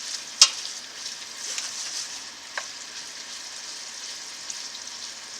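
Hungarian sausage browning in a soup pot, a continuous close sizzle and crackle of frying fat with a few sharp pops and spatters scattered through it.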